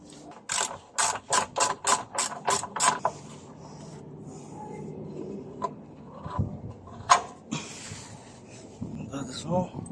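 Ratchet loosening 16mm bolts on the dogbone mount of a VW Polo 9N, a quick run of sharp clicking bursts near the mic, then scattered single clicks and knocks with brief talk.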